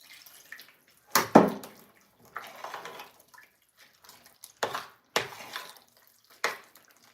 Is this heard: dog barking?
no